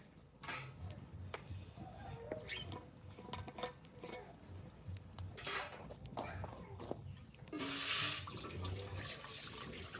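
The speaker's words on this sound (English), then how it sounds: "So let's get this water on to start boiling." Water is poured into a pot for boiling at an outdoor campfire, splashing and trickling amid clinking metal cookware and utensils, fairly quiet with a louder pouring rush near the end and some talk.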